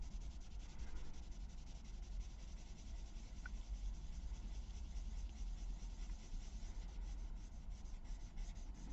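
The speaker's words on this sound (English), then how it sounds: "I'm just going to take my blue pencil crayon," A blue pencil crayon colours gently across paper in a continuous soft, dry rubbing scratch, close and quiet, with no pauses for almost nine seconds.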